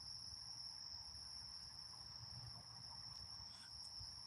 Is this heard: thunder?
no